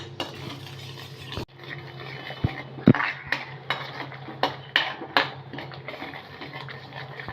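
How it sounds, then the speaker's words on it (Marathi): A spoon stirs and scrapes curd through spice masala in a pan, sharp metallic clinks and scrapes recurring irregularly over a soft sizzle, close and with no voices. "आता हे पण आपण दही मसाल्यामध्ये दोन तीन मिनटं परतून घेणार आहोत"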